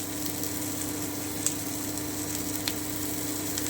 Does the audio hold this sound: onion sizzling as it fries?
yes